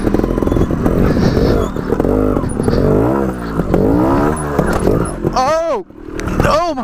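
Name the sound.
Scorpa trials motorcycle riding over rocks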